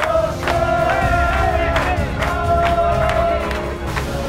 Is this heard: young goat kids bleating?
no